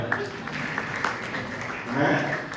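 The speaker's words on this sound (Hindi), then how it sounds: "देखो ताली बजाओ।" Applause from an audience at a Jain Paryushan religious discourse in Chikhli, a steady wash of clapping that swells briefly near the end.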